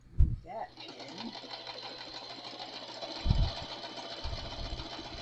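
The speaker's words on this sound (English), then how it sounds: "since I'm sewing over the tulle" A sewing machine stitches over tulle while sewing scraps, starting after a brief thump and running as a steady, close mechanical whir to the end, with a few low knocks underneath.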